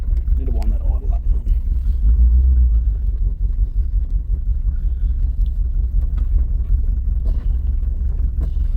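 A Ford XD Falcon engine idling low and steady in a paddock, a continuous deep rumble with a slightly uneven lope and light wind noise over it.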